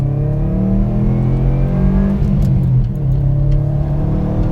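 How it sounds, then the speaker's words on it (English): A 2018 Subaru WRX STI's turbocharged flat-four engine rumbles steadily from the rear, a loud continuous low drone heard from inside the car with no talking. "you can hear that classic Subaru rumble coming from the back"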